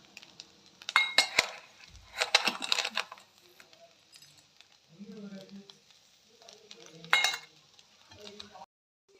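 Grated coconut from one whole coconut is stirred with two bowls of sugar in a pan for narali bhaat, giving intermittent metallic clinks and scraping of a utensil against the pan with faint sizzling, close by between quiet pauses.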